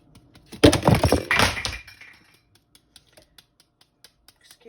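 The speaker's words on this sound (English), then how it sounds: "that was my iPad hitting the floor" An iPad drops and clatters onto the floor with a short burst of knocks and rattles, followed by a trail of faint clicks and taps in a quiet room.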